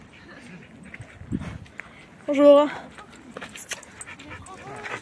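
Suki the dog gives a short whimpering yelp and bark on a walk through the Fabregas forest in the Var, a brief sharp burst amid quiet rustling footsteps, with a person briefly speaking nearby.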